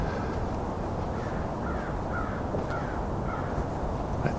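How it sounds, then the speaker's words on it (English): Several crows caw faintly at a distance during a Christmas Bird Count, short harsh calls spaced across a steady, noisy outdoor background. "So far I've counted about 5 crows."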